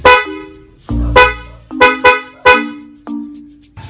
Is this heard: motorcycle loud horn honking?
yes